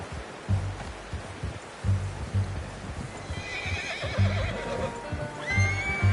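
A horse in Red Dead Redemption 2 whinnies in a high, wavering call over the steady clip-clop of hooves, with soft rain-like background noise.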